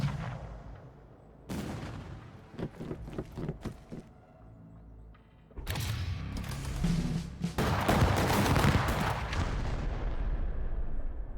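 Heavy gunfire barrage in the steampunk 4X strategy game Punk Wars: scattered shots at first, then a dense, loud roll of overlapping blasts that sustains to the end, with no talking.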